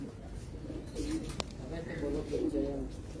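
A pigeon coos softly in a series of low, rolling calls over steady background noise, with a sharp click partway through.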